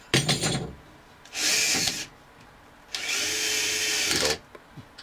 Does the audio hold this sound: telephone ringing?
no